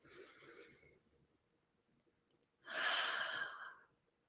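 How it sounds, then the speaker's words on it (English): A singer's breaths between words during a vocal practice session, a soft inhale followed by a louder, longer airy breath close to the microphone, with quiet pauses between them. "Whether it's just breathing more in between words like I'm doing"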